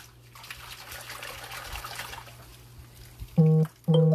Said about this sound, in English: Now I can swish this around in my water.